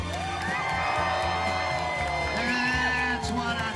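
A live crowd at an event yells, whoops and cheers continuously at close range, a dense wash of mixed screaming voices with a few louder shouts rising above the roar.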